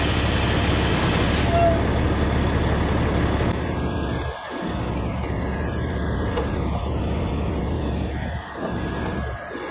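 Air hissing steadily as a truck's air system fills the hooked-up trailer air lines on a farm fertilizer rig, a loud continuous rush with a low engine rumble underneath and a few brief dips.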